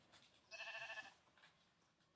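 A Minecraft sheep gives a single clear bleat lasting about half a second, then fainter bleats follow, all quiet over a low background hiss with no talking.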